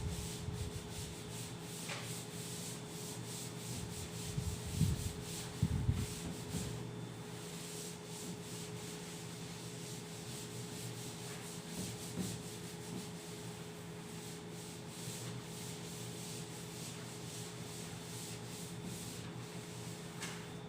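Duster rubbing out writing on a classroom board during a maths lesson, a soft, steady scrubbing that goes on throughout, close and fairly quiet.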